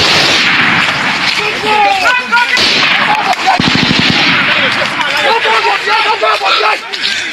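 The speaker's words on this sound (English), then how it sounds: "Return fire." Gunfire in a firefight between locals, military and bandits, a loud close crackle of shots and bursts mixed with shouting voices and crowd noise throughout.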